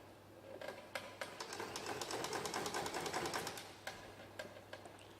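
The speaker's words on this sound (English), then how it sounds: "leave the needle in once you get to the pivot point, lift your foot, pivot, and start stitching again." A sewing machine stitches quilt binding in short, quiet bursts of rapid clicking, with pauses while the fabric is pivoted at a corner, heard without any speech.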